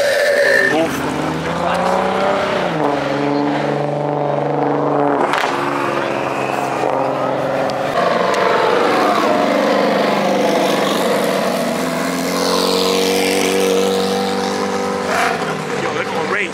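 Performance cars at a large cars-and-coffee meet rev their engines before racing, a loud sustained roar with rising and falling pitch sweeps, close by, with people talking over it.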